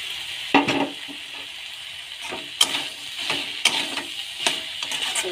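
Fish head and mustard paste sauté in a pan, with a steady soft sizzle punctuated by sharp scrapes and clinks of a spatula stirring against the metal every second or so.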